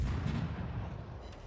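Heavy naval guns of the Anshan destroyer firing in World of Warships, a dense, loud low boom and rumble that fills the short moment with no talk over it.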